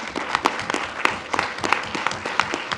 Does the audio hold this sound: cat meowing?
no